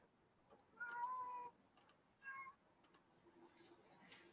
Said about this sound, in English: all I hear is meowing